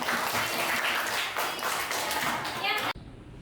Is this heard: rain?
no